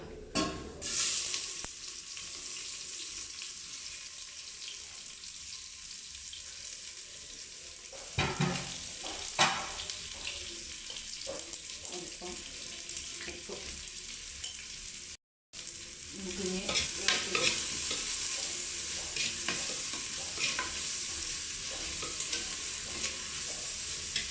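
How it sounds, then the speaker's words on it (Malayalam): Sliced onions sizzle and fry in coconut oil in a very hot pan, with repeated stirring scrapes and clatters throughout, loud and close, a steady hiss underneath and a brief cut partway. "നമുക്ക് ഉള്ളി ഇട്ടുകൊടുക്കാം ചട്ടി നല്ല ചൂടായി"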